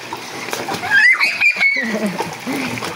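Children splash while swimming in water in front of a house, with a few close, bright splashes under the steady chatter of kids talking.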